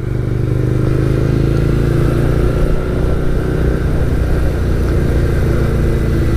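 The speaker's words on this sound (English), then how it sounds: "The motor's all warmed up now, so you can tell it starts to respond a little better." A warmed-up 2017 SSR Motorsports Buccaneer motorcycle engine runs loud and close, a steady dense rumble with slight revving swells throughout and no voices.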